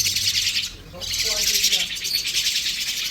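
Dense, high-pitched chirping from many green lovebirds, continuous and lively, with a few lower calls briefly standing out partway through.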